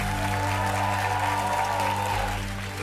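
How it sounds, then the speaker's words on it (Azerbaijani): Studio audience applauding at the televised contest Böyük səhnə in 2013, a dense, steady wash of clapping that holds for about three seconds alongside sustained musical tones. "Alqışlarınızla."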